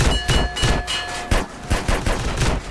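Rapid bursts of gunfire from the video game GTA San Andreas Multiplayer, loud and close, with repeated shots in a quick irregular rhythm and no talk.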